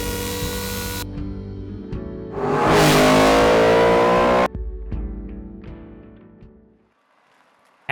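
An Audi R8 with a custom-built exhaust idles with a rough burble, then snaps into a loud, raspy rev that roars for a couple of seconds. It cuts off and the engine settles back down before going quiet.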